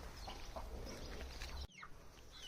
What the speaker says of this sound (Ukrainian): Так, а ось тут у нас курчата, вони трохи дикі